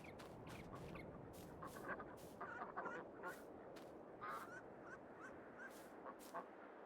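Ducks in the farming game Farming Simulator 22 on an old derelict farm, repeated short quacks and honks scattered throughout, fairly faint and distant over a steady outdoor background hiss.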